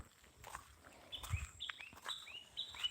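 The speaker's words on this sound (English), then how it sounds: "like birds are chirping" Birds chirping outdoors on a nature walk, several short bright tweets repeating through the clip over faint rustling and occasional footsteps, fairly quiet and moderately distant.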